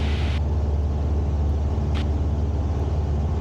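A light aircraft engine holds a steady throttled-up rumble near 2,200 RPM, loud and continuous, with a brief hiss partway through and no voices.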